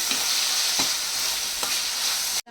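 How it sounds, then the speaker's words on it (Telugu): Omelette curry frying in a pan sizzles steadily while it is stirred after salt goes in, with a few distinct scraping strokes of the spoon against the pan close by. "సాల్ట్ వేసుకొని మళ్ళీ కలుపుకోవాలి"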